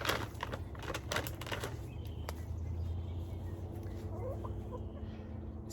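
Chickens cluck softly and irregularly nearby, with scattered pecking taps and a low rumbling background.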